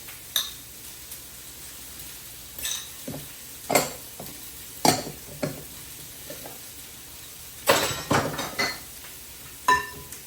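Beaten eggs are stirred into a chocolate dessert mixture, with intermittent spoon scrapes and clinks against a bowl, separate strokes spread over a quiet background and no speech.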